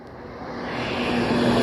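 A crop-spraying airplane flies overhead above a field in Israel, a steady engine drone that swells gradually louder as it nears, with no speech.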